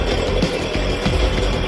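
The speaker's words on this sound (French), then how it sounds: "Une tronçonneuse." Chainsaw cutting into a giant box, a loud continuous engine roar with rough buzzing texture, very close and alone.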